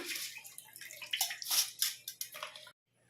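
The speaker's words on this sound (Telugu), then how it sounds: "ఇలా వడబుట్టలో వడేసుకుందాం బియ్యం" Freshly washed rice draining in a strainer, with water splashing and trickling through in uneven bursts for a few seconds before it suddenly goes quiet.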